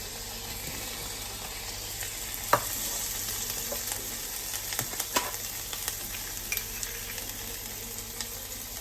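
Chopped onion and tomato sizzling in a hot pan for vegetable jalfrezi, a continuous bright frying hiss broken by scattered pops and spoon clinks as it is stirred, close and moderately loud.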